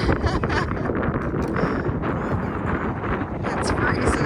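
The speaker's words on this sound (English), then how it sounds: "It's freezing and the wind's blowing." Strong, steady wind roars and buffets the microphone on the freezing summit of McAfee Knob, loud and constant throughout, with voices faintly mixed in.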